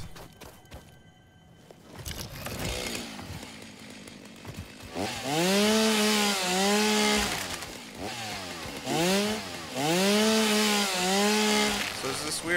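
A chainsaw cuts trees in the video game Satisfactory, its engine revving up into a loud whine that rises and dips in repeated surges, with a voice talking underneath.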